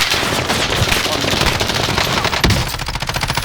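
Rapid automatic gunfire from a Call of Duty Warzone trios match, loud and dense bursts of shots running continuously throughout with no pauses.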